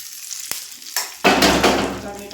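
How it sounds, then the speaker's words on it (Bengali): Ground chutney hits a hot pan with a sudden loud burst of sizzling after a couple of sharp utensil knocks, the spatter staying strong and crackly to the end. "দেখুন চাটনিটা বেটে নিয়েছিলাম, এবারে চাটনিটার মধ্যেটা ঢেলে দিলাম।"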